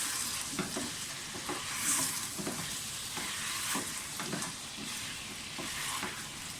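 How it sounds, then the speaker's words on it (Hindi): Salted chicken pieces fry in a pan with a constant close sizzle and hiss, while rhythmic stirring strokes scrape through at roughly half-second intervals; no one speaks. "चिकन में थोड़ा सा नमक डाल दें और थोड़ा सा और फ्राई करें"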